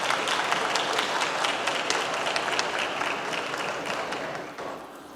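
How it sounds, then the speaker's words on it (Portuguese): A seated audience at an infrastructure project governance conference applauds steadily, a dense even patter of many hands that fades slightly toward the end. "Recebamos com os aplausos."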